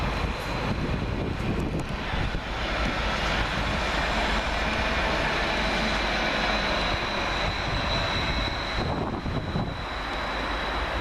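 A Greater Anglia class 755 train pulls in to terminate at Peterborough station on a service from Ipswich, a fairly faint, steady rumble with a humming drone across the platform and no talking.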